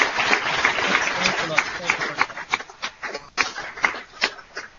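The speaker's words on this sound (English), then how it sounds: "let me give you one big round of applause with the whole audience" Applause from a webinar audience, dense clapping at first that thins into scattered, separate claps toward the end, moderately loud.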